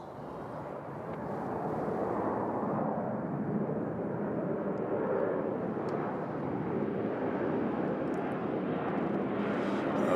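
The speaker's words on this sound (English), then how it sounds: "So here's a plane going to O'Hare" Fixed-wing airplane departing Nashville International Airport bound for O'Hare, a steady broadband engine roar that swells after the first second and holds loud and continuous, with no talk over it.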